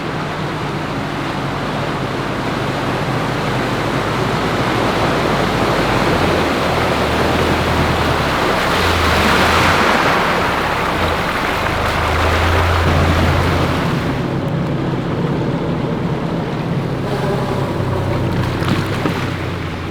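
A 4WD pushes through shallow, soft-bottomed muddy river water on a Tasmanian forest track, with a loud continuous wash and rush of water against the vehicle under low engine rumble and no talk.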